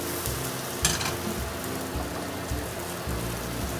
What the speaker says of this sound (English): our shallots and garlic. Saute those a little bit first